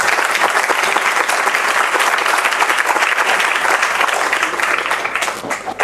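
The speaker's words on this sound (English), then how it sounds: "So, big clap for their giving." A lecture audience applauds in a dense, continuous wash of many hands clapping, loud and sustained for several seconds before easing slightly at the end.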